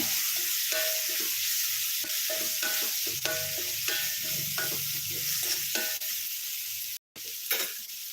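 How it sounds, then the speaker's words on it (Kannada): Dry fish frying in a pan for a gravy, with a steady sizzle and repeated stirring scrapes throughout and a brief break near the end. "ಇದು ಚೆನ್ನಾಗಿ ಸ್ಮ್ಯಾಶ್ ಆಗೋವರೆಗೂ ನಾವು ಫ್ರೈ ಮಾಡ್ಕೊಳ್ಳೋಣ"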